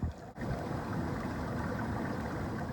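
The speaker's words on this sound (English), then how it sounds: "you can just hear the water rushing underneath them right now" Water rushing beneath rocks like a hidden river, a steady broadband churning wash, moderately loud and continuous, with a brief scuff right at the start.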